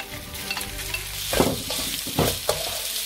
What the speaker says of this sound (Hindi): तो इसको भी मैं तीन चार मिनट फ्राई करूंगी